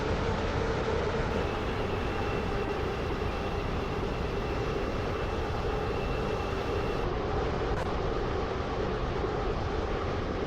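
A Class 707 electric train on the Stepford County Railway in the Roblox game runs steadily, with a continuous rumbling roll and a faint high whine through the ride.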